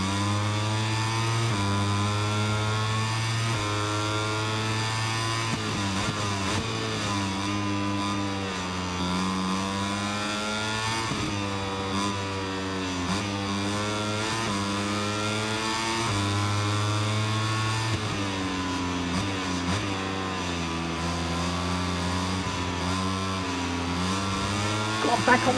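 A MotoGP 25 racing game motorcycle engine drones and revs steadily throughout, rising and falling in pitch with throttle changes, loud and continuous.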